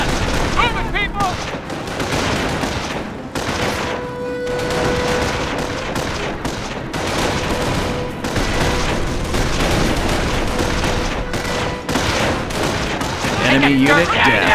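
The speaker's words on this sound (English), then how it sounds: "We got ground troops firing on us!" Ground-troop gunfire in the WW2 game Company of Heroes 2 during an Omaha Beach D-Day landing: dense, continuous bursts of rifle and machine-gun fire with booming impacts, loud and sustained under battle chatter and voices.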